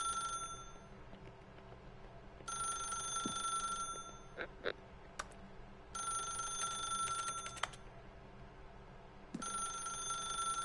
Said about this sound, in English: How do I answer the phone?